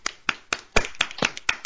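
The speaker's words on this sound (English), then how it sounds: "let's applaud him" A few people clap their hands, a thin, sparse applause of sharp claps in an irregular rhythm, close to the microphone, lasting under two seconds with no talk.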